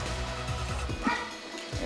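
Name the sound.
dog barking on a street in the Philippines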